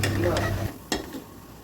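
A spoon stirs a pan of mussel fry mixed with grated coconut, giving a brief scraping stir over a low hum and a light sizzle, then one sharp clink and quieter rustling.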